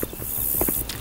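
A weapon reload in a video game, heard as a quick handful of mechanical clicks and clacks over about a second, with a light metallic slide near the end.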